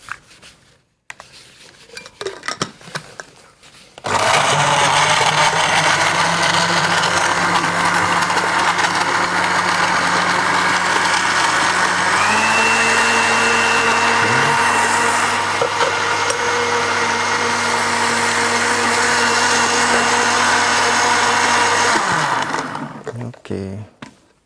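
A kitchen blender whirs steadily for nearly twenty seconds, blending oranges, grapes and carrots into juice, its motor pitch shifting partway through before it stops; quiet talk is heard before it starts.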